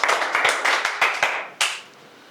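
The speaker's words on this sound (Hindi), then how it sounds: "जोरदार तालियों से स्वागत" An audience at a coaching institute's launch of an SSC GD exam preparation batch claps to welcome a teacher, giving a few strong bursts of applause that end with a final loud clap and then fade out.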